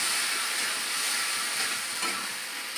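Spice mix frying in a pan, a steady bright sizzle and hiss that stays even and close throughout.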